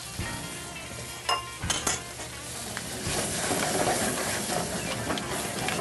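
Fresh spinach goes into a pan of pasta on the stove, bringing a steady sizzle and steam hiss with a few sharp clinks of a utensil against the pan.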